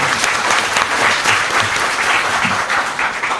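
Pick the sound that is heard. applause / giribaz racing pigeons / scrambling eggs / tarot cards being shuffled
applause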